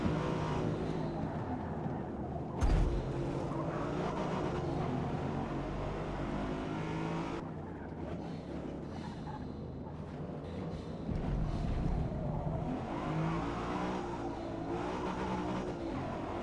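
Race cars lapping in Forza Motorsport, a continuous engine drone with shifting pitch as the car accelerates and brakes, a sharp knock near the start, steady and moderately loud with no talk.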